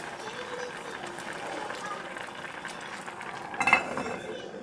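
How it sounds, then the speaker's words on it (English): Chicken broth bubbling in a pot for Jamaican brown stew chicken, a soft steady simmer with faint popping, ending in a brief louder clink of a utensil against the pot. "I already put the chicken broth in there, and there you go, bubbling away."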